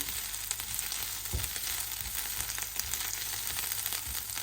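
Onions frying in a pan for a mutton sukka, a steady close sizzle with occasional soft stirring knocks, no voices.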